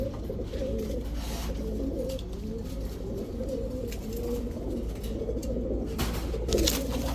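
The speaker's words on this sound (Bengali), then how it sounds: "প্রচুর কবুতর আছে" Giribaz highflyer pigeons coo in low, layered, overlapping calls from a crowded flock, a constant soft burbling murmur close by with faint background noise.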